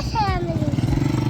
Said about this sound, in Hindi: इधर आ जाओ, बाइक आ रही है।